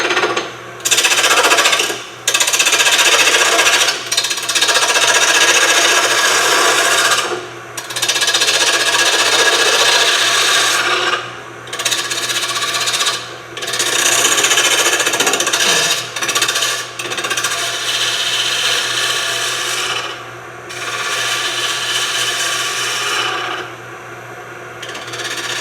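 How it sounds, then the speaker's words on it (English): A bowl gouge cuts palm wood spinning on a lathe, loud rough scraping and tearing in long bursts broken by short pauses, close to the tool rest with no speech. "Let's go for a bowl gouge."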